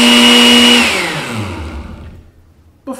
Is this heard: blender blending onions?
yes